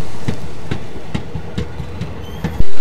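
A train running on rails, with regular clickety-clack beats of the wheels over rail joints, loud and close, about once every half second, ending in a sudden louder burst.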